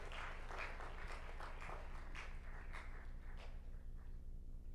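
Audience at a moot court grand finale clapping for a team, a dense, fairly faint wash of applause sustained throughout before thinning slightly at the end.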